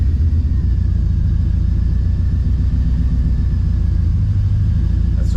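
The engine of a 1961 Metropolitan hot rod runs with a loud, steady low rumble close by, unbroken throughout.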